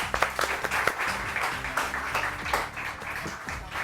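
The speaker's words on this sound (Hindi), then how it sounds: "तहरीम ज़ुबैरी के लिए बहुत सारी तालियां।" Studio audience applause on a Pakistani morning television show, a steady dense patter of many hands clapping for about four seconds, moderately loud, with music and faint voices running beneath.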